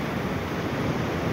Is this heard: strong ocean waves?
yes